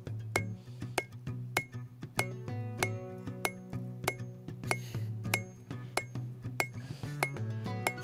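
A forged metal spoon is hammered thin on an anvil. Steady, evenly spaced ringing metallic strikes sound close and bright, each clink leaving a short resonant tone.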